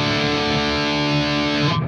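Heavily saturated electric guitar overdrive and distortion through a Sonicake Black Hammer multi-effects unit set for metal, a sustained dense chord ringing loud and steady before cutting off at the end.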